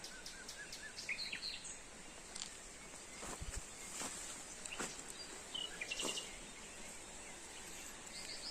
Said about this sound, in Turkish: Kuşlar ne güzel şarkı söylüyor arkadaşlar ya.